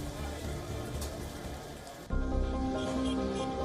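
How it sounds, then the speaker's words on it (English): Heavy rainfall in Mumbai that brought waterlogging and floods: a steady, dense hiss of rain on surfaces runs throughout, becoming fuller and louder partway through, with no talk. "Mumbai woke up to heavy rainfall and consequent waterlogging causing floods in major parts of the city"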